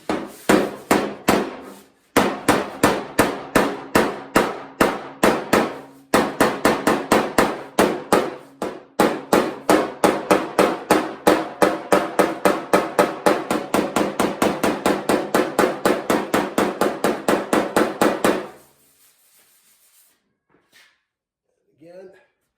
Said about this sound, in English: just a different style pick hammer here.